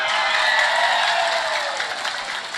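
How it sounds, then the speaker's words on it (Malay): Dense applause from a crowd at a live religious lecture, steady clapping that holds, then tapers off slightly toward the end. "tepuk tangan"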